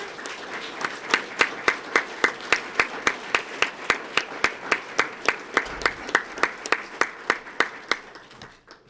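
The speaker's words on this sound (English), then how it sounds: "Please give them a round of applause as they enter." Audience applause greets police candidates entering the room at a Sarasota Police Department swearing-in and pinning ceremony, a steady run of distinct, evenly spaced claps carrying on for several seconds, sounding fairly sparse and close.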